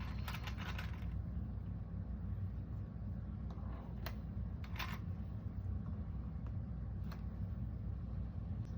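A sewing machine runs a steady top stitch across a Grinch purse, a continuous low mechanical whir with a few faint clicks, fairly close and with no talking.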